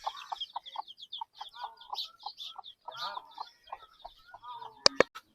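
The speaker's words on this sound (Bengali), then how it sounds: "কতগুলো বাচ্চা নিয়ে ঘুরতেছে দেখেন মুরগিটা।" A hen clucks in quick, close bursts while roaming with her chicks on a farm in Anwara, Chattogram, high peeping calls scattered between, ending with two sharp louder sounds.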